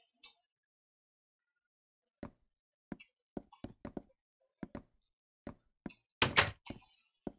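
Knocking on the back door in a Minecraft world: a series of sharp, distinct knocks and thunks spread across several seconds, irregular in rhythm, with one louder burst near the end, alone against silence.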